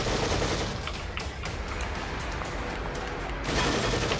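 Steady, dense gunfire from a gun in the horror video game The Evil Within, a continuous rattle of rapid shots that stays loud throughout and swells slightly near the end, with no talking over it.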